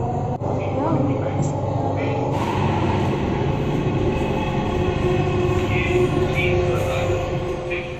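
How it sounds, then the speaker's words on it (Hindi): A Delhi metro train travelling, its steady broadband rumble and rail noise continuous and fairly loud throughout, with a brief click near the start and a rise in high hiss partway through. "ये रही हमारी मेट्रो"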